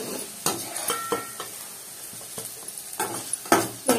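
Egg biryani ingredients fry in hot oil in a pan, with intermittent sizzling bursts and a few stirring scrapes and clinks of a utensil against the pan, close and moderately loud with no talking.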